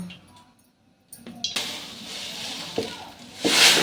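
Malpua batter with rice flour, salt and milk powder is mixed in a bowl. Brief, close scraping and stirring sounds with a few light clinks of the spoon follow a quiet start.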